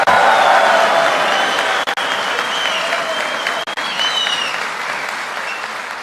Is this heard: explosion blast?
no